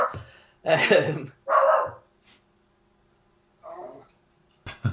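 A single dog indoors gives a few sharp barks, two loud close ones followed by a quieter bark after a pause, with near silence between.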